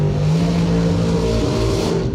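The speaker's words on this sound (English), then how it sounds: "Working the bugs out of the dragster over here on the left side." A drag racing dragster engine revs hard and loud for a couple of seconds, a dense roaring drone that fades slightly at the end.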